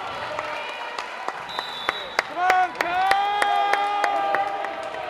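An arena crowd at a women's volleyball match, Florida State against Louisville at the L&N Federal Credit Union Arena, keeps up a restless roar with claps, cheers and sharp squeaks, rising into a fuller swell halfway through.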